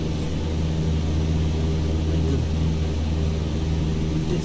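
A Cessna engine drones steadily while taxiing in Microsoft Flight Simulator 2020, a loud, constant low rumble with no breaks.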